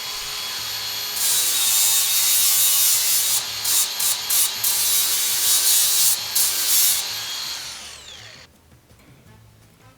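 A steel tube being cleaned by rubbing before drilling and threading, a loud sustained scraping abrasion with brief pauses, continuing for most of the stretch before dropping away to quiet near the end.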